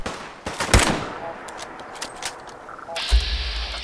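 Gunfire in Fallout 4: a quick burst of sharp shots near the start, then scattered fainter cracks and a final thump, with no voice over it.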